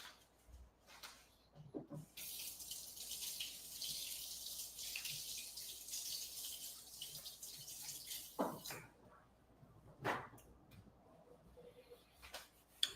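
Water runs from a kitchen sink tap as hands are washed, a faint steady hiss lasting several seconds, broken by a few soft knocks and splashes before and after.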